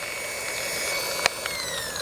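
A FLEX PXE 80 rotary polisher with a 4-inch pad spins at higher speed, a steady close whine with a few brief knocks, running alone.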